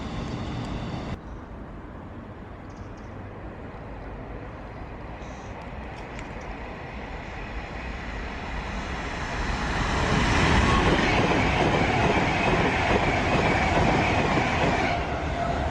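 An 8-car express train bound for London Euston rumbles past on the railway line, a steady close roar that swells louder toward the end, with faint clatter and no talk.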